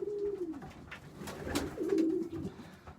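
A dark pigeon gives soft, low cooing: a throaty phrase, a brief pause, then another rolling coo, close by and quiet.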